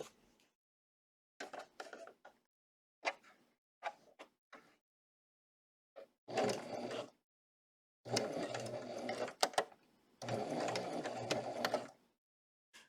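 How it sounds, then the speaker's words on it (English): A sewing machine stitches a fabric scissor case in short bursts of mechanical whirring, a few brief runs at first and then two longer passes, separated by silent pauses. "So I sew right down those angles, okay?"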